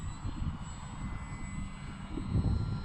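The engine of a flying FMS PA-18 Super Cub RC model airplane drones steadily in the distance, a thin buzzing hum with low rumble, no voices.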